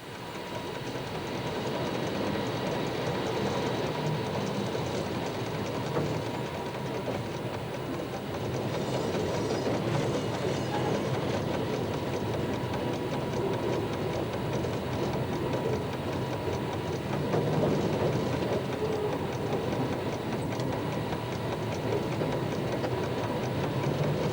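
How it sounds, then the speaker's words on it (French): The CC 7107 electric locomotive starts a train on the line from Ambérieu to Modane, giving a steady rumbling drone with faint rail clatter, heard continuously from inside the cab with no speech. "C'est le conducteur de la locomotive de pouce qui effectue le décollage du train."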